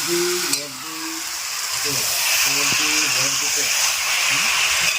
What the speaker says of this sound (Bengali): এই যে মা রান্না করছে কষা